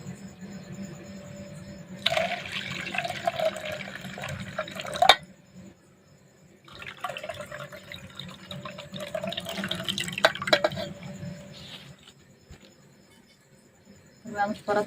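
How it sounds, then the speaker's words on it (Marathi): Water splashing and sloshing as soaked moth beans are rinsed in a bowl, in two bursts, with a voice speaking briefly nearby. "पाण्याने धुवून घेते म्हणजे जे घाण पाणी ते पूर्ण निघून जाईल"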